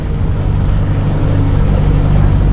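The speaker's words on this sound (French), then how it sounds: "Hop, on va couper le moteur." A sailboat's motor runs while cruising from Toulon to Hyères, a loud, steady low rumble with churning water noise that holds constant for a few seconds before it is shut off.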